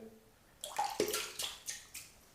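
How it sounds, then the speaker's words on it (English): A wet shaving brush, shaken out after soaking before soap is loaded, gives several quick splashy flicks and drips of water in a quiet room, each burst short and separate. "I'm going to shake out most of the water, but not all of it"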